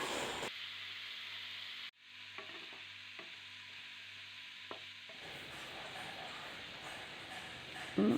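Spice paste fries in a pan while it is stirred together with potatoes and kohlrabi for a fish curry, giving a faint, steady sizzle broken by a few soft scraping stir strokes.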